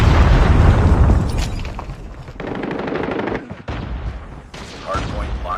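Explosions and rapid gunfire from a Predator missile strike in the mobile shooter game COD Mobile, a loud dense burst at the start easing into sustained bursts of fire with a few sharp breaks.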